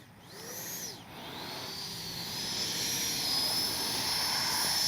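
Freewing 90mm F4 radio-controlled electric jet touching down on a runway, a loud steady ducted-fan whine that sweeps in pitch and builds toward the end, heard alone without talking.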